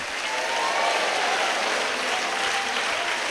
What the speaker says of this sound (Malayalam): ഒന്ന് കൈയടിച്ച് ഹല്ലിയ പറയാം